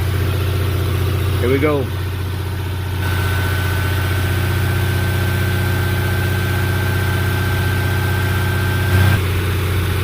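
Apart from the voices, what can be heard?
car engine revving near 2000 RPM during Seafoam induction cleaning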